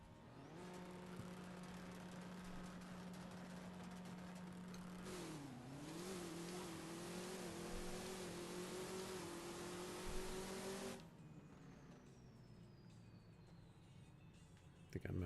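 A modded, boosted drag car in the video game My Summer Car revs hard and climbs through its gears with a long steady engine drone, a brief dip at a shift, then a sudden cutoff followed by quieter background noise.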